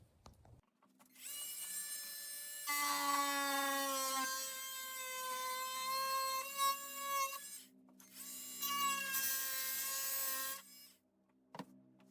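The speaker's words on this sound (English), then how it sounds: "Let's get the multi-tool." A multi-tool cuts through wood near a reinforcement bracket with a loud, buzzing, high-pitched whine that wavers in pitch, running in two long passes with a brief break between them.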